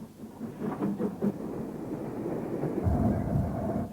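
A Midland steam train, number 0604F, passes through the closed Saltley station, heard as a fairly faint, continuous low rumble and clatter that swells slightly toward the end.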